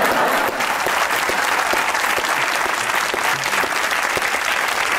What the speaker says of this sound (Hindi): एक बार कायदे आज़म के लिए तालियां हो जाए।